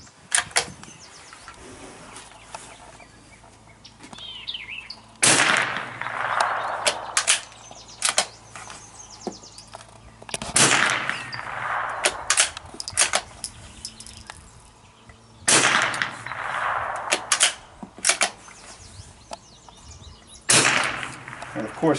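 A French MAS-45 .22 rifle fires single sharp cracks at intervals of several seconds outdoors, each shot followed by a short echo, with someone talking between the shots.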